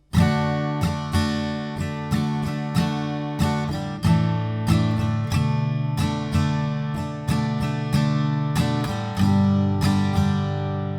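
Acoustic guitar strummed in a steady rhythmic pattern, chords ringing out close and clear with regular accented downstrokes, no voices.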